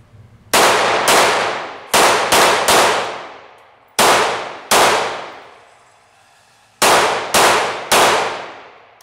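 About ten loud, sharp pistol shots during a shooting drill testing a pronated grip, fired in quick bursts with pauses between. Each report rings out and decays briefly, with no talking.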